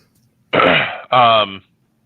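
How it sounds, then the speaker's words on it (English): A person nearby clears their throat loudly in two quick, harsh bursts, almost like a cough, then silence. "The cough frequency is getting higher"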